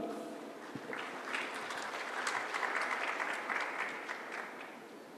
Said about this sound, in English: Let's have a huge round of applause to welcome on stage Mr.